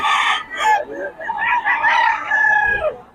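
Young gamecock stags crowing at a busy rooster market, several loud nearby crows overlapping in quick succession with little pause between them.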